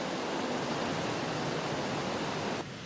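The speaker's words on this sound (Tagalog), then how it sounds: "dahil umaapaw pa rin itong ilog, malakas ang agos ng tubig" The swollen, overflowing Marikina River rushing past a flooded road, a dense, loud, continuous roar of churning water that drops abruptly in level near the end.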